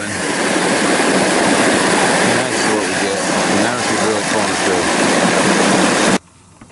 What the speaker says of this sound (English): when the siphon fully develops is when it really starts sucking on the tail end